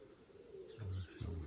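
Pigeons coo close by at a pigeon loft, two low, throaty coos in quick succession standing out over faint background noise.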